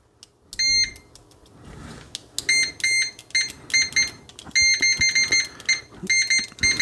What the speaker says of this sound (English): so an audible as well as the visual for continuity